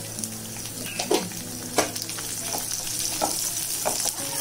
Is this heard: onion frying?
yes